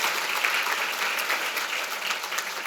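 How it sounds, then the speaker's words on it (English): A breakfast audience at a women-in-business chamber of commerce event applauds, dense and steady clapping from a room full of people filling the whole stretch, with no voices standing out. "Let's give those ladies a round of applause."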